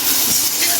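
Garlic, turmeric and asafoetida hit hot oil for a tempering, giving a loud, steady crackling hiss that fills the whole brief moment without a break.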